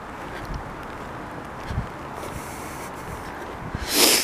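Wind gusting outdoors along a street in Montreal West in October, a steady broad rush with a louder buffeting burst against the microphone near the end.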